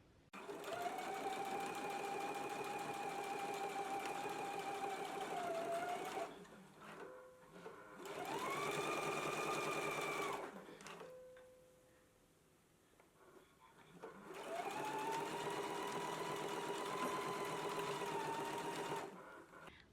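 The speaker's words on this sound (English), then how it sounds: "Let's go ahead and do our top stitch now." A sewing machine top stitches along a skirt placket in three long steady runs, each ending in a brief pause where the motor drops away, fairly close and with no talking.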